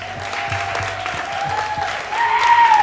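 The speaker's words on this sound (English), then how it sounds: "Yeah, clap it up." An audience at a girls volleyball event claps in a steady, moderately loud patter that grows a little stronger near the end, with a faint tonal hum underneath.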